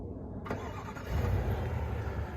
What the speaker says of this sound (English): I just started the big V8